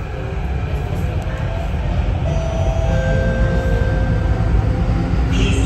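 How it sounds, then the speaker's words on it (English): A Thomson-East Coast Line metro train runs toward Stevens Station, giving a loud, continuous rumbling roar with faint high whines rising and fading over it. "The train enters Stevens Station on Platform D"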